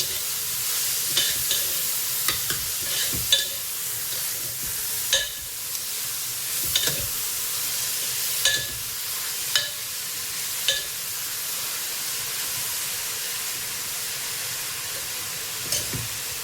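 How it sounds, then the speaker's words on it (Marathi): Grated carrot for halwa sautéing in ghee fills the clip with a steady hissing sizzle, broken by periodic scrapes and clinks of a spoon stirring in the pan. "आपल्याला छानपैकी परतून घ्यायचं आहे तुपामध्ये।"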